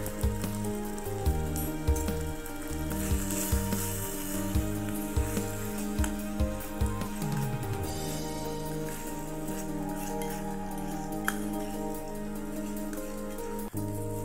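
Ground tomato paste sizzles and crackles steadily in a hot pan of spiced masala for a vegetable kurma, a soft continuous frying hiss beneath background music with no talking.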